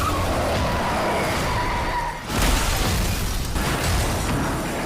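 A car crashes and overturns in a film scene, with a loud, dense burst of crunching impact noise and skidding that briefly dips before another heavy crash rumble.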